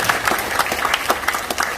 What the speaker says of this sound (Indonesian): Nah, tepuk tangan buat Bapak Ibu semua ya.